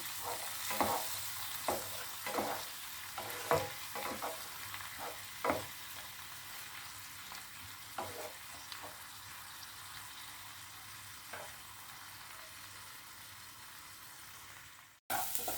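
Onions frying in a pan for egg do pyaza: a soft, steady sizzle broken by regular scraping stirs early on that thin out later, ending with a sharp cut.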